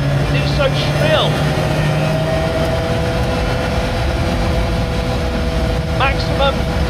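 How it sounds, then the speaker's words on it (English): Engine of a Lancia Rally 037 Group B restomod with a Volumex supercharger, heard from inside the car: a steady, loud drone with a shrill whine, continuous throughout, under someone talking. "the engine sound, the Volumex supercharger is so close behind my ear, the driver's ear"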